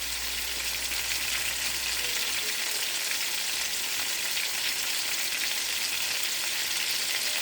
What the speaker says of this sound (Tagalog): i-prito natin kahit paano para manuot yung lasa niya ba